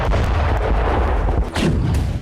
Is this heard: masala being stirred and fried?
no